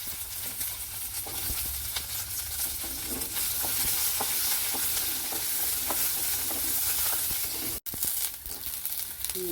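Ingredients for a coconut chutney sauté in a pan with a loud, steady sizzle and repeated scraping stirs, briefly dropping out for an instant before the frying resumes.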